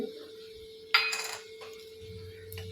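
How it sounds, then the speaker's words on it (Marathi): A spoon clinks and scrapes against a pan while urad dal roasts with cumin seeds, giving a sharp metallic burst followed by a couple of lighter taps over a steady low kitchen hum. "उडीद डाळ आपल्याला हलकीशी लालसर होईपर्यंत याच्यामध्ये परतून घ्यायची आहे"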